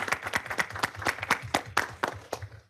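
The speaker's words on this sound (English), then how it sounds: "Let's have a round of applause." A small audience at a city homeowners' association work session applauds an award, with a few people clapping in quick uneven rhythm for a couple of seconds before it fades out.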